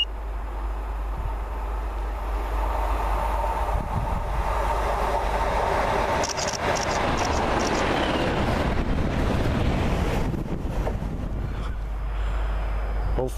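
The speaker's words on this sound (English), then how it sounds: "Comes a fast train for you" A fast train passing in Scotland: a loud, continuous rushing rumble with wind buffeting that builds toward the middle and stays heavy throughout, with no voices.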